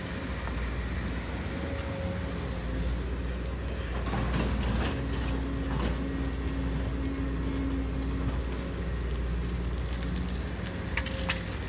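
A Sumitomo SH210-6 hydraulic excavator digs with a constant low diesel drone and tonal hydraulic whine, broken by occasional knocks and scraping clatter from the bucket working soil.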